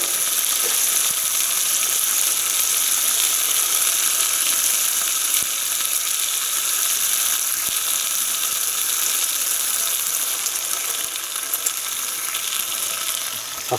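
Rind-on back bacon fries on a gasifier wood stove with a constant close hiss and fine crackling spatter, even and unbroken throughout, with nobody speaking.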